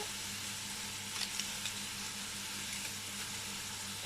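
Meat browning in a small piece of butter in a pan, a soft, steady sizzle at low volume with a few faint crackles and no voices.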